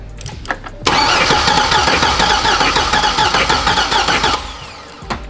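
A Corvette C6 Z06 engine cranks on the starter during a compression test, a loud, close, rhythmic churning that runs for about three and a half seconds without catching, framed by brief clicks.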